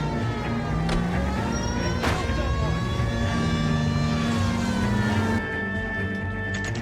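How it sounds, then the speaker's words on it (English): A police car siren wails in the LA Noire video game, holding steady alongside an engine drone with a few sharp transient hits, loud and continuous throughout. "I've got my siren going because this is an important case."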